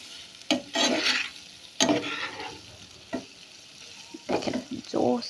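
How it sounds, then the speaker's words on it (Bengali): Spiced prawns stirred in a hot pan for a Bengali prawn malai curry, a few separate scraping stirs with a soft sizzle beneath, close and moderately loud. "এখন একটু ভালোভাবে নাড়াচাড়া করে নিই"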